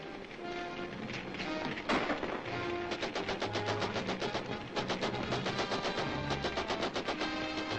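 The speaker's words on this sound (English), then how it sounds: "Get out behind the baggage, Betty, and protect you from the gunfire" Rapid bursts of gunfire from a radio drama sound effect, a loud, dense run of repeated sharp shots lasting several seconds over a busy background.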